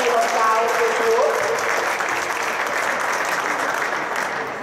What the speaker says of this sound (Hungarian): ennél sokkal nagyobb tapsot fogunk kapni pár perc múlva.